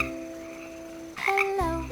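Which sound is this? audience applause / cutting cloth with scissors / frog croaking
frog croaking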